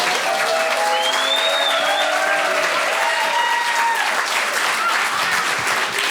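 Sustained audience applause for a storyteller at a live story event, steady and full throughout, with faint whistles and cheers over the clapping.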